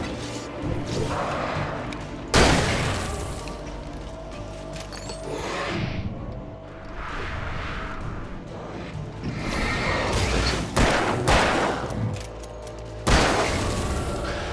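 Several loud, sharp gunshot blasts from the video game Alan Wake ring out at irregular intervals, with booming echoes and a busy background between them.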